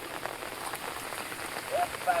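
Steady rain patters on surfaces outdoors near a boat on the water, a dense even hiss with a few louder drops near the end, no talk.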